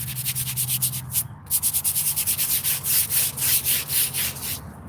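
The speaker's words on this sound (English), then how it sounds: "A little scrubbing." Rapid back-and-forth scrubbing of a cemetery headstone after hosing it down, a steady rhythmic brushing of about fifteen close strokes with a brief pause near the start and a faint low hum underneath.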